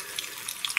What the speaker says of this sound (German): So, da sind die Spiegeleier in der Pfanne